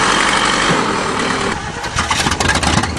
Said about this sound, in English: Now let's see if she starts.